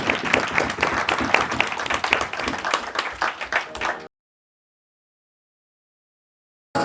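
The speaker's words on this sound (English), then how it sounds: "Can we have a round of applause?" Lively audience clapping after a talk on Pakistan's origins, identity and future during a UK tour, loud and dense for about four seconds before cutting off into silence, then returning briefly.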